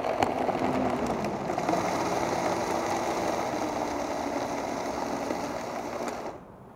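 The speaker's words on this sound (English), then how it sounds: "So we're just gonna throw this on the Vitamix and break down that ice a bit," A Vitamix blender churns sausage meat slurry with ice and cumin, a dense, continuous whirring grind that holds steady for several seconds before cutting off.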